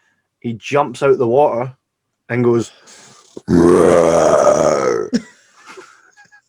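A voice imitates a screaming shark with a long, rough, burp-like groan that rises and falls, following a stretch of his own animated talk.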